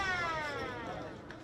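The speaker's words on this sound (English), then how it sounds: "as the siren goes for half-time" A half-time siren wails at a QAFL Australian rules football match between Labrador Tigers and Morningside Panthers, a sustained tonal blare over faint ground noise that slowly fades.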